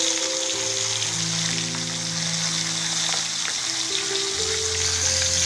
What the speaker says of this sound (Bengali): এবার মাথাগুলো একে একে ভেজে নেব।